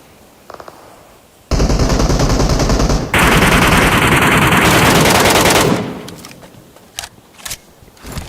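Automatic gunfire in the battle royale game Metro Royale, a loud sustained burst of rapid shots lasting several seconds, preceded by a few faint clicks and followed by scattered quieter sounds.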